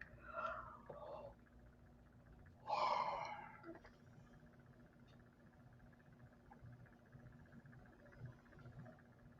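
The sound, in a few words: person yawning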